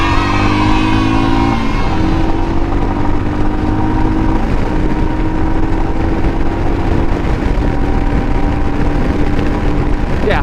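A 2022 Royal Enfield Himalayan motorcycle accelerating on the road, engine tone climbing steadily through gears under constant wind rush, loud and close throughout.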